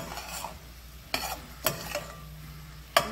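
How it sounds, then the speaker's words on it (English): Shrimp being stirred in a hot pan: a soft, steady sizzle underneath, broken by three or four sharp scraping strokes of the utensil against the pan, close and fairly quiet. "Stir it again."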